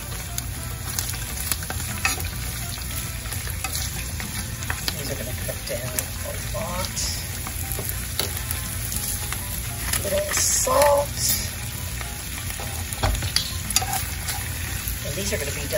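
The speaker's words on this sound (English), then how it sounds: "add all of our greens to the pan. We're going to coat those" Greens wilt in sesame oil in a pan, sizzling steadily and close by while being stirred with occasional scraping and clattering, a continuous frying hiss throughout.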